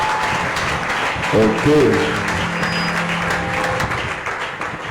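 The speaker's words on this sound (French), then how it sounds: "Clap for the Lord." A church congregation at a fasting and prayer service in Yaoundé claps for the Lord, with steady applause heard through the crowd while voices speak and sing over it.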